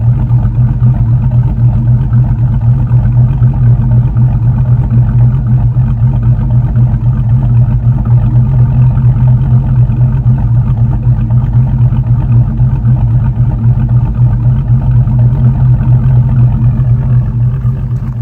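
A 2003 Chevy Tahoe's 5.3-liter V8 with shorty headers and an aftermarket cam idles steadily and loudly, a deep continuous rumble with no talk over it.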